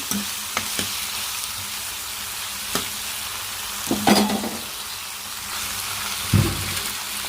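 Tomato and ivy gourd pieces are stirred in a pan, giving scattered scraping and clinking strokes with a few louder knocks over a low, steady background hiss.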